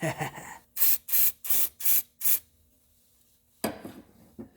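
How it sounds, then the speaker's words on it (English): Five quick, hissing spurts of brake cleaner from an aerosol can during transmission fluid work on a 2003 Toyota Corolla, each short and sharp, followed by a brief pause and then a softer handling noise. "Now, grab that lonely can of brake clean and just give it a spurt."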